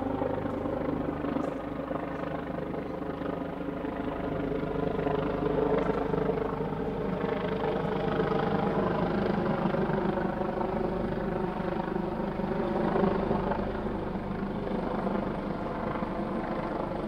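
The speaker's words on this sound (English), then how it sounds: "Helicopter flew over, did one pass, and then went straight that way." A state police helicopter drones steadily overhead in one pass, its rotor thrum constant and moderately distant for the whole stretch, with no voices.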